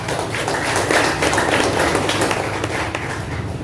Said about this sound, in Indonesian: tepuk tangan dulu untuk kita